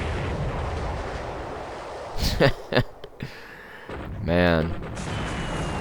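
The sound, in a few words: torpedo hit explosions in War in the Pacific video game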